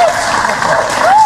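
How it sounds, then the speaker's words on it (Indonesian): An audience claps at a launch event for the horror-comedy film Ada Hantu 2, a short burst of crowd applause with a voice over it. "berikan tepukan pada anda semua."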